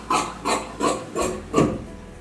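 Scissors for cutting material snip through two folded layers of fabric, five evenly spaced crunchy cuts roughly every third of a second, close and clear with no talking.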